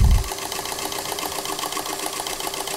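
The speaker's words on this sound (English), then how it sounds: "push it towards the foot and down towards the floor pretty hard, and start sewing a straight stitch" A sewing machine running a straight stitch through lining fabric for a dress, a steady close mechanical whir with fast even rhythm after a brief thump at the start, no voices.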